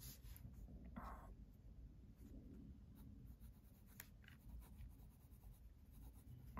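A Nahvalur Original Plus fountain pen with a wet ink flow scratches across paper in short, soft strokes and faint scribbles, close and quiet against a low background hum.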